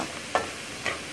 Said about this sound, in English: I'm going to stir it all together, put the top on, and let them cook a little bit